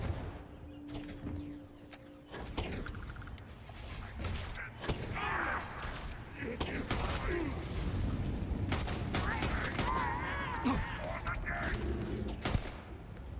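Gunfire from a favorite weapon in the space game Starfield, rattling in repeated bursts amid mechanical clanks and creaks, with a voice talking over the action.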